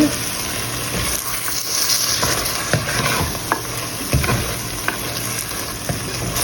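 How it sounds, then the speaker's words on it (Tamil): Oyster mushroom curry, Sri Lankan style, frying uncovered in a pan: a loud, constant sizzle with irregular stirring scrapes and clicks throughout, close up and without talk. "இப்போ இதை மிக்ஸ் பண்ணி போட்டு இது மூடாமல் ஒரு மூன்று நிமிஷம் கொஞ்சம் பிறல விட போகிறேன்"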